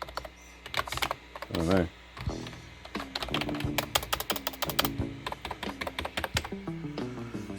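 Keys clack in quick irregular bursts on an old computer keyboard belonging to an IBM ThinkCentre M50 being restored, with a short mechanical whir and a brief spoken remark near the start.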